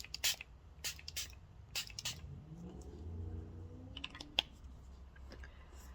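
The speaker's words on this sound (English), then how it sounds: "now I'm going to set all of this in using the Long Stay setting spray" Several short, sharp hissing bursts of a spray mist, spaced irregularly across a quiet room, each brief and fairly close.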